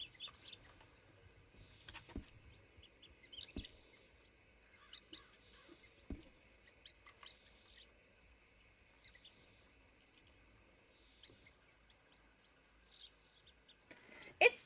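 Birds chirping and calling in the Red Dead Redemption 2 Wild West world, scattered short tweets near and far over a quiet ambient background.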